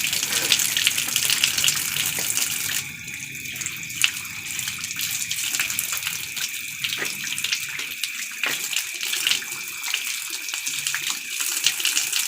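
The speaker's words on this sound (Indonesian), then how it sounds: "bagaimana cara membasuh kaki?" Water pours and splashes continuously while feet are washed for ritual ablution, a steady close gushing with small fluctuations and no talking.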